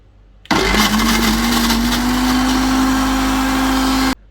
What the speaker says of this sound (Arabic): وهنضرب الخلاط عليه من غير ملح ومن غير حاجه